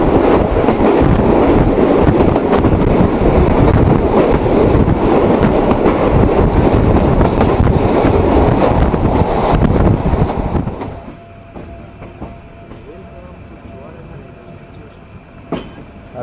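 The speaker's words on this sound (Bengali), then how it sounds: "না, এটা তেলবাহী ট্রেন।" An oil tanker freight train passes at night on a Bangladeshi railway, its loud clattering rumble filling about ten seconds before dropping away to a quiet hum.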